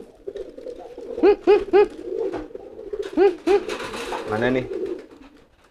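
Merpati giring pigeons, one bought from a market, coo in short throaty bursts, several close calls repeating, while a person speaks briefly nearby.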